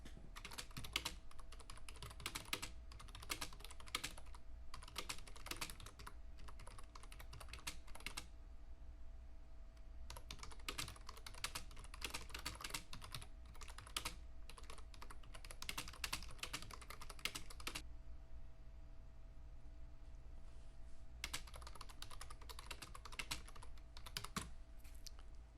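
Typing on a computer keyboard: steady runs of soft, rapid key clicks in bursts separated by short pauses, close and quiet with no voices.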